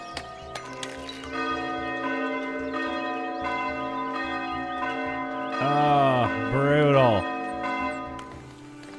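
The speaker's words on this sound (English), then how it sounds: "Does the bell actually ring in the church, or is it just the sound?" A church bell tolls repeatedly in the village-building game Foundation, resonant strokes ringing over soft game music, and someone briefly speaks partway through.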